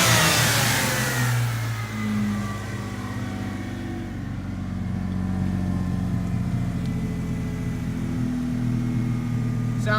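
A 2000 V6 Ford Mustang engine idles and revs steadily after an intake swap, with a deep rumbling exhaust note that swells and settles, close by with no talking.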